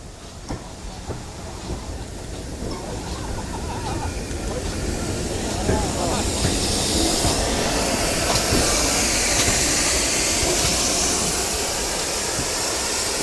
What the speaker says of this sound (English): Now that is a proper train,